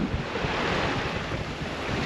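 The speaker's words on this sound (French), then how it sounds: "et là, un petit peu de vent" Wind at sea aboard a sailboat making about five knots in twelve knots of breeze, a steady broad rush mixed with waves washing along the hull, close and continuous.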